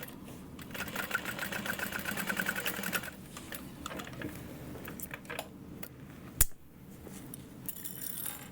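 A sewing machine stitches a padded Minerva tote bag in a fast, steady whir for a few seconds, then quieter handling sounds and one sharp click follow.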